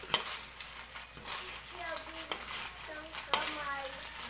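Live crabs being stirred in a pan with syrup, with scraping spoon clatter, light sizzling and short squeaky scrapes against the pan, fairly close, and a voice speaking in the background.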